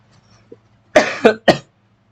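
Three sharp coughs from a man, close and loud, coming in quick succession about a quarter second apart, with a quiet room and faint low hum behind them.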